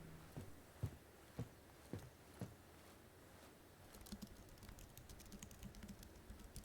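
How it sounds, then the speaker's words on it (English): Keyboard typing in the tactical shooter game Ground Branch: a few soft, separate key taps at first, then a denser run of faint pattering clicks, quiet and close with no talk. "I like the little pattering of the keyboard."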